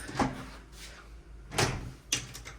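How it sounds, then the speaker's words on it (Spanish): A heavy door on a sailboat being tried without opening: a few separate knocking, rattling bumps spread out, fairly close, with no talk. "Oh, no se abrió la puerta."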